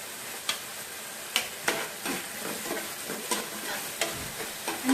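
Beans sizzle and fry in a pan, with a steady frying hiss underneath and intermittent scraping and tapping as they are stirred, all fairly quiet and close.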